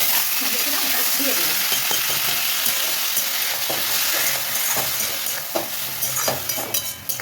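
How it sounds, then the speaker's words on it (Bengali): Black cumin seeds tempering in hot mustard oil give a loud, dense sizzle and crackle, close and continuous, with faint clinks of a utensil stirring near the end. "কমপ্লিট তেলের মধ্যে সর্ষে তেল কালো জিরে ফোড়ন দিলাম"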